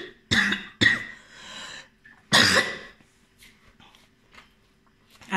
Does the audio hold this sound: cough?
yes